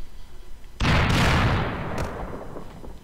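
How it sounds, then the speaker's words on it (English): A sudden loud explosion effect from a Unity 3D platformer game scene bursts in after a quiet moment, then rumbles and decays over a couple of seconds with a second smaller pop following. "forgot I left the explosion effect here in my scene"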